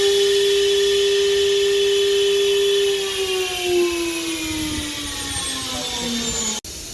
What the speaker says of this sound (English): For example, I press it. You will see the spindle is running.